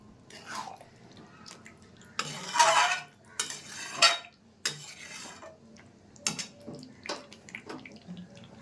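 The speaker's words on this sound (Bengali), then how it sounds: "একটু ভালো করে মিশিয়ে নেব" Spicy potato and pea curry (aloo dum) with ghee being stirred in a pan, a spoon scraping and clinking against the metal in irregular bursts, close and moderately loud with no talk.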